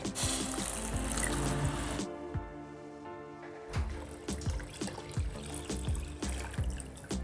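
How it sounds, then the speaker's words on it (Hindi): About two litres of water poured into a pot of sautéed vegetables for clear soup: a close, rushing pour that stops for a moment, then resumes with splashing and a few metallic clinks, with no talk. "यहाँ पे हम 2 लीटर पानी ऐड करेंगे।"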